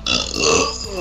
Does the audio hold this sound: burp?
yes